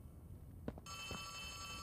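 Telephone ringing in the video game Poppy Playtime Chapter 3, a sustained electronic bell tone that starts partway in and continues steadily to the end over faint background noise, with a couple of soft thuds just before.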